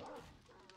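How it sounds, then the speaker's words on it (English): Dogs barking outdoors in the survival video game 7 Days to Die, a short cluster of yips and barks that sounds moderately close, heard alone without talk. "I heard dogs outside"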